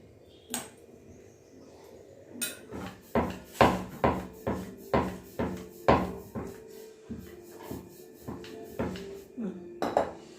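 Chilli powder and salt worked into a vegetable paratha filling in a bowl, heard as a steady series of about a dozen sharp spoon knocks against the dish, close and moderately loud, each with a short ringing tail.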